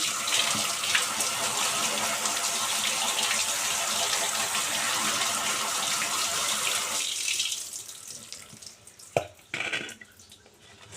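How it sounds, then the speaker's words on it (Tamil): Water runs steadily from a tap into a sink for several seconds, then stops, followed by a few splashes and sloshing sounds of dried fish being rinsed. "இப்போ பச்சை தண்ணியில் ஒரு ரெண்டு மூணு தடவை நல்லா அலசி எடுத்து சுத்தம் பண்ணி வச்சுக்க வேணும்"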